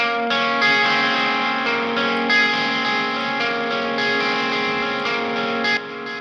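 Electric guitar playing a sustained rhythm part with the gain turned well down, delay and reverb added, steady chords ringing with echoing tails, played alone for several seconds.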